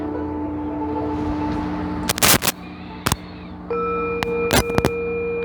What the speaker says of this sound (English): Let the sound of the bell vibrate every cell